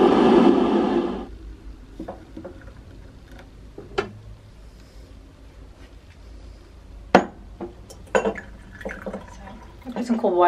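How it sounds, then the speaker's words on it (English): Cold tap water runs into a cup of instant coffee in a tiny sleeping-pod kitchen in Greece, a brief steady pour at the start followed by small clinks, drips and handling noises. "Some cold water in so it's not too hot to drink."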